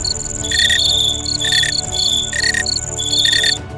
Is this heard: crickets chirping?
yes